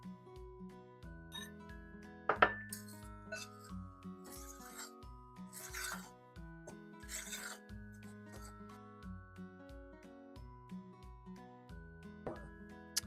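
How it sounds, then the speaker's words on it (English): Rough scraping and rasping of a giant fork stirring vanilla cookie dough in a bowl, coming in short, irregular strokes, partly masked by steady background music. "I'm going to use my giant fork, and we're going to mix this up with our fork."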